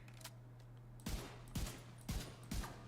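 Rifle shots in The Division 2, four sharp cracks spaced about half a second apart over a steady low hum, each with a short tail, no voices.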